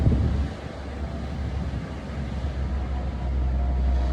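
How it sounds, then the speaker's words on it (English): Waves wash in from the sea in a steady, rumbling surge, with a dull wind rumble on the microphone and no one speaking. "I'm noticing the sound of the waves."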